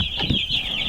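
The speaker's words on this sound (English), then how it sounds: "I just wanted to peek on these chicks first." Chicks cheep and cluck close by in a brief high burst of steady calls, with no voices.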